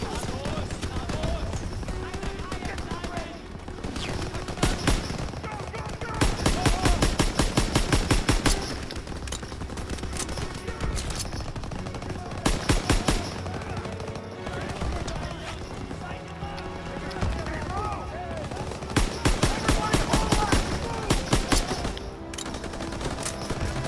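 Gunfire in Call of Duty WWII, dense rapid bursts of automatic fire repeating throughout alongside single shots, loud and close, with a player talking over the game sound.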